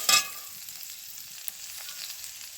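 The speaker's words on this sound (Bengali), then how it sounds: "আমি দুটো পাঁচ ফোড়ন দিয়েছি গরম তেলে" Panch phoron spices frying in hot oil in a pan while cooking a Bengali singi fish curry, a sharp sizzling burst at the start settling into a soft, steady background fry.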